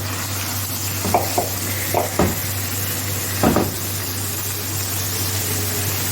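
Marinated mutton keema sizzles in hot oil under a steady low hum, with a few spoon scrapes and knocks against the pan in the first few seconds before the frying settles into an even hiss.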